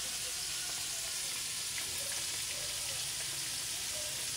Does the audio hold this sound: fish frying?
yes